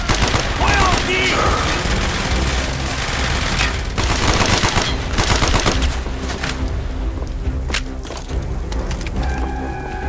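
Rapid machine-gun bursts and rifle fire in the World War II shooter Project Nova, loud and dense at first, then thinning into scattered shots, with shouted voices mixed in.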